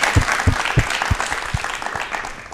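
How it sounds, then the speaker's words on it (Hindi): Studio audience breaks into strong applause for a guest on a televised talk show. A few louder, distinct claps stand out at the start, then the clapping thins and fades. "तालियां एक बार मैम के लिए जोरदार होनी चाहिए"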